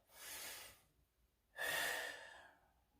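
Two deep, audible breaths, an inhale then a louder exhale, close to the microphone during a Swiss ball back extension exercise, separated by a short quiet pause.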